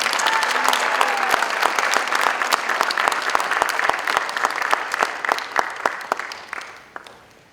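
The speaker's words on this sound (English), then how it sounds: "a big round of applause to Hall of Fame inductee, Dr. Frank Thomas Slovic." An audience at a school district sports Hall of Fame induction applauds an inductee, loud close clapping with distinct individual claps that thin out and fade over about seven seconds.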